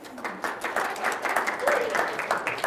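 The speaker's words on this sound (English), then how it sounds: "So I think big round of applause for Rebecca and the team who've done that." Audience applause at a UK research and innovation policy event, a steady patter of clapping heard alongside talk.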